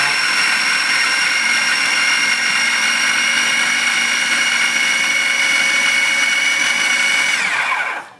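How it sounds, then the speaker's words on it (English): A blender whirs steadily at full speed, blending Trapanese pasta pesto loosened with starchy pasta water, a loud continuous motor drone that runs unbroken before cutting off at the very end. "We're going to add this to our pasta trapanese in the blender."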